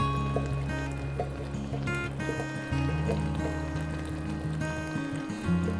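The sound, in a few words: pouring canned San Marzano tomatoes with juice into pan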